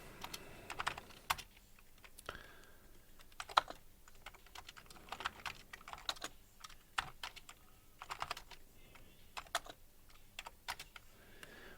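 Steady typing on a computer keyboard, irregular clusters of crisp key clicks with brief pauses, close and fairly quiet, no voices.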